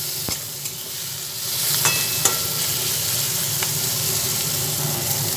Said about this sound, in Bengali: ভালোভাবে সব নাড়াচাড়া করে নিচ্ছি